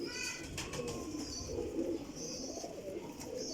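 Soft, distant cooing from flying pigeons kept at a loft, with faint chirps and background ambience, low in level and without talk.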